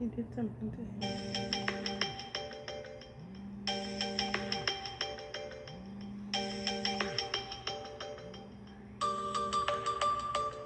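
Incoming-call ringtone sounds as four repeated melodic bursts of about two seconds each, fairly loud and separated by short gaps, with a person talking throughout.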